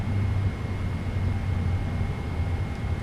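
Boeing 777F airliner engines shutting down in a flight simulator soundpack, a steady low rumble with a faint high whine held throughout at even loudness, no voices.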